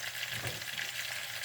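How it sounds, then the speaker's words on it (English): Milkfish with miso sautés in a pan, giving a soft, even sizzle that stays faint and steady throughout with no voices. "Let's continue to saute."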